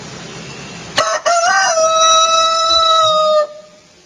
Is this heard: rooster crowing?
yes